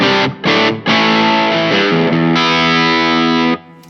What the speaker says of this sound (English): I'm going to play with this lovely Fano Omnis MG6, which sounds a little like this.